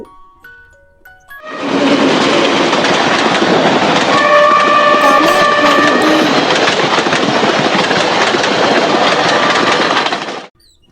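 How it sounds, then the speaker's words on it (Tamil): A train passes close by with a loud, sustained rumble and rattle of rail cars, a horn sounding tonally in the middle, rising quickly and then ending abruptly. "ட்ரெயின்"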